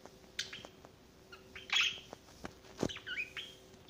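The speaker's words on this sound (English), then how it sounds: "You're a good bird." A pet bird gives a few sharp squawks and chirps indoors, short isolated calls spread over a few seconds with quiet gaps, close but fairly faint.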